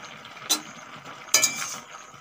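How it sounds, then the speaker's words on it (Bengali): A lid lifted off a cooking pot of simmering vegetarian curry with plantain, two short metallic clinks about a second apart over a soft background bubble. "চাপা খুলে দেখে নেব।"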